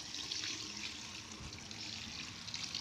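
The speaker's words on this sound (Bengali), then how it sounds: "ওই জন্য বালিতে জলটা দিয়ে দিতে হবে" Water is poured steadily onto sand around small seedlings brought home from a nursery, making a soft continuous splash and trickle heard up close, with no talking.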